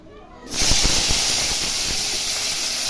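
Eggplant pieces dropped into hot oil in a home kitchen, a loud steady sizzling hiss that bursts in suddenly and continues evenly close by, with small popping crackles.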